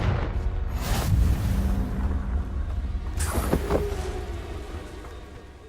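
A Confringo fire spell blast from Hogwarts Legacy on PS5 bursts out midway with a sharp whooshing crack, set over a steady, rumbling game ambience that runs the whole time.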